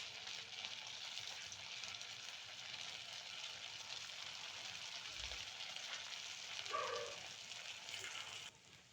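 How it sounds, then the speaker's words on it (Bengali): Puffed rice sweets fry in hot oil in a wok, a faint, even crackling hiss that runs steadily throughout and drops off near the end, with no one speaking. "এখন আমি মিষ্টিগুলো করবো কি লাল লাল করে সুন্দর করে ভেজে নেব"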